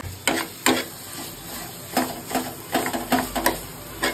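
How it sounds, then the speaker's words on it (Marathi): A spoon mashes and stirs cooked tomatoes in a pan for paneer bhurji, giving irregular close scraping and tapping strokes against the metal, about a dozen in quick uneven rhythm, over a faint steady hum. "थोडंसं मॅश करायचं टमाटरला."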